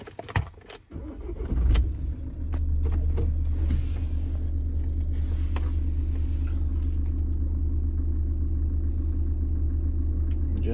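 A car engine cranks with a few clicks and rattles, then catches and settles into a steady, close idle rumble that continues evenly to the end.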